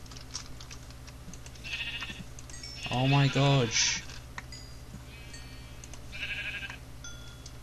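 Sheep in the Minecraft video game let out a few quavering bleats, the loudest a clear wavering call midway, with someone talking excitedly over the quiet game sounds.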